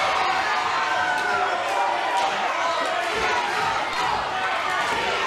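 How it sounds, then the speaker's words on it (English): A wrestling show crowd roars and shouts without pause, the dense, loud din of the audience filling the hall while commentators talk over it. "This crowd, insane."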